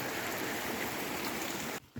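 A stream of water flows near a pond on a forest trek around Kotagiri, Ooty, giving a steady, close rushing hiss that cuts off abruptly just before the end.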